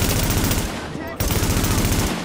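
Sustained automatic gunfire from a weapon in The Division, a rapid continuous burst that briefly stops near the middle and then resumes, loud and close.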